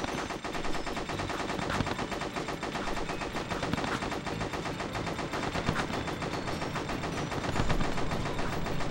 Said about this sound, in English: the guns are really loud in this game